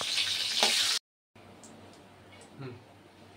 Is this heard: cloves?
yes